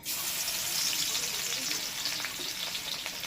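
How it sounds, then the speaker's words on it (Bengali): Crushed garlic hits fully heated oil and sizzles loudly and steadily from start to finish, a dense, close frying hiss with no voices. "তেলটা পুরোপুরি গরম করে নিয়েছি। এবার এর মধ্যে দিয়েছি থেতো করা রসুন,"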